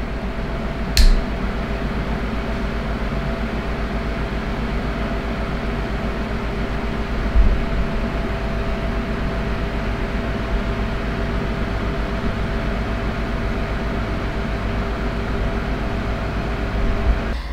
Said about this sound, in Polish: W tym momencie wentylator ustawiony jest na najwyższą moc, zarówno na górze, jak i na dole, oraz na rotowanie.